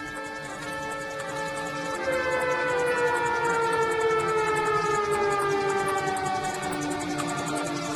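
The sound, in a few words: siren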